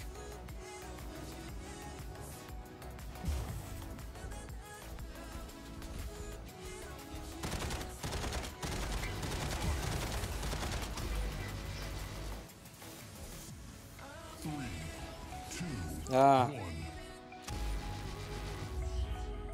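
Rocket mortars firing in the mech combat video game Mech Arena, a dense run of rapid explosive bursts and booms over busy game music and effects, with a sharp loud blast near the end.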